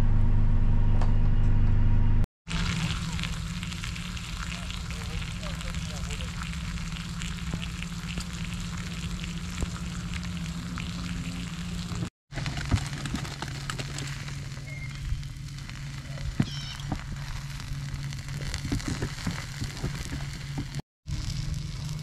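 Bacon and egg frying outdoors at a campsite, a steady close sizzle and crackle running continuously with small pops and a low background hum, briefly cut off a few times.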